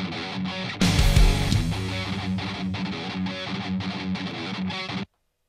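Distorted electric guitar with its tone EQ-matched to a reference track, heard as a dense, loud rock mix with driving rhythm, a heavy hit near the start, and steady chugging until it cuts off abruptly.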